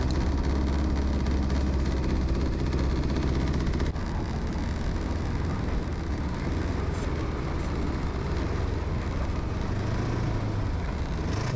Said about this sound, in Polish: Jazda skuterem śnieżnym jest dość prosta.